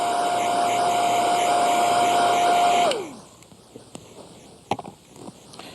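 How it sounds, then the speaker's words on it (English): A handheld hair dryer on a slightly cooler setting blows with a steady whirring roar and faint motor whine for about three seconds, then cuts off, leaving quiet room sounds and a few soft clicks. "I'm even using my dryer on a slightly cooler setting because it is close to the eyes"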